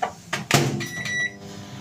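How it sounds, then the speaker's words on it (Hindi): A Panasonic microwave oven door clunks shut, followed by a couple of quick button taps and a short electronic beep, all close and brief. "माइक्रोवेव पावर लेवल 100 पे"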